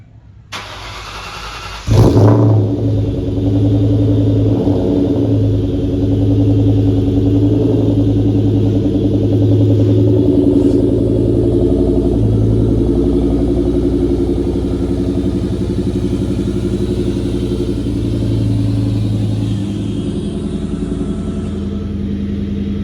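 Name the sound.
2003 SVT Cobra Mustang engine starting and driving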